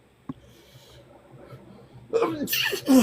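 A sharp, single sneeze bursts out near the end, loud and close, after a quiet stretch with a faint click.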